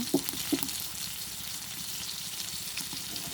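Sea fish frying in hot oil in a pan, a steady soft sizzle and crackle with a couple of brief louder spatters near the start, no talking.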